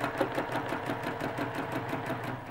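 A sewing machine stitches a quilted feather plume, its needle running in a fast, even, rhythmic chatter that holds steady and close throughout.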